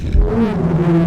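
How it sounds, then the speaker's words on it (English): Stomach growling sound effect in a radio ad, a brief low gurgling rumble with a rising and falling tonal groan, heard alone. "that is the sound of my stomach demanding tacos."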